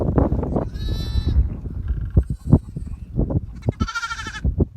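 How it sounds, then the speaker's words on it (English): Sheep and lambs bleating in a lambing field at a croft on Bressay in May, several overlapping close and distant bleats over steady outdoor wind or handling rumble, loud and busy throughout. "The lambs lose the mothers, but they always mother up again."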